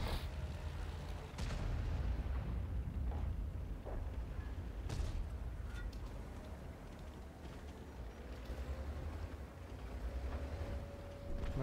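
Tank cannon shots and booming explosions in an online tank video game featuring the SU-130PM, with heavy low rumble and a few sharp blasts across the clip, some faint voices.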